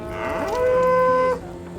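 A single loud, close cow moo from North Dakota cattle, rising then holding steady for about a second before cutting off.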